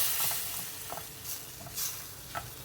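Tomato sauce goes into a pan of fried onions and sizzles quietly, with a spoon stirring in soft scraping sweeps over a low, continuous frying hiss.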